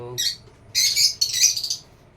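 Pet lovebirds chirp up close in short, shrill bursts separated by brief pauses.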